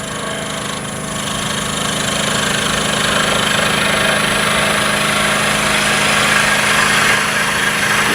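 Wood lathe spinning at about 1500 rpm while a skew chisel works the wood, a loud, steady motor drone that builds slightly early and then holds even.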